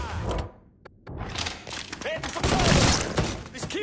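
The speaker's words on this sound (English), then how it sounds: "Over there! Shoot him, for fuck's sake!" Dense, rapid gunfire from the video game Mafia 3 rattles almost continuously in loud overlapping bursts, with shouting voices mixed in.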